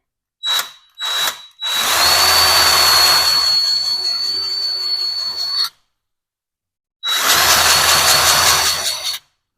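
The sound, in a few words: Harbor Freight 20V cordless grease gun pumping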